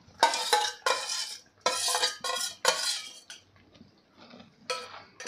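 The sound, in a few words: stirring mashed urad dal into fried masala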